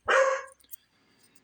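A dog barks once, loud and close, in a garage during grille emblem removal on a 2003 Lincoln Town Car. A short burst, then near silence with a few faint clicks.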